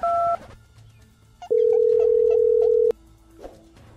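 A short two-tone beep, then a long steady telephone tone lasting over a second, with faint background noise around it; no talking.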